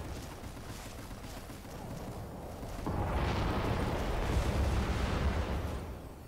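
A Gatling gun fires in the video game Strike Vector, a dense, sustained roar of rapid shots that grows noticeably louder and heavier partway through and holds steady to the end.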